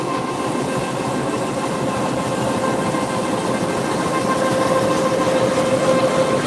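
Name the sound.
train standing at railway station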